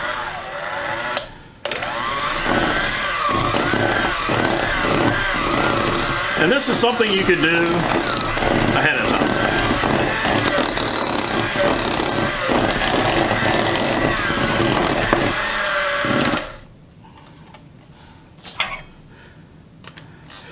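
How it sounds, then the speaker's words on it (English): A kitchen blender whirs loudly and steadily for about fifteen seconds, blending ingredients for a dish made ahead of time, with someone talking over it before the motor cuts off and the room goes quiet. "I'm just going to blend this up, so pardon the sound."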